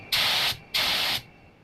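An LVLP paint spray gun gives two short pulls in a cold workshop, each a steady airy hiss about half a second long with a brief gap between them, close and fairly loud, and no one talks.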